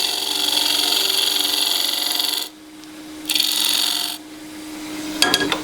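A spindle gouge shears wood spinning on a lathe, a steady close scraping hiss that stops, resumes for a second cut, then gives way to a few brief clicks and taps.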